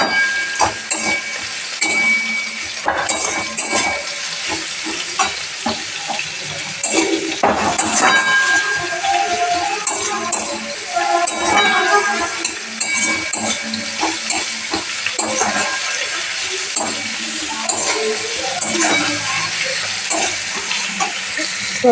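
Garlic paste is stirred in a hot frying pan for a bhola fish curry, a steady close sizzle with repeated scraping strokes throughout.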